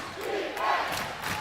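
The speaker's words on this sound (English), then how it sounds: "Defense chants ring out from the crowd." A college basketball crowd chants for defense in a steady, rhythmic roar late in a game, loud and sustained throughout with no single voice standing out.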